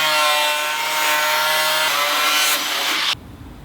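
A DIY hood scoop for a supercharged rally Miata is trimmed with a power tool, a loud, steady buzzing cut that runs for about three seconds and then stops abruptly.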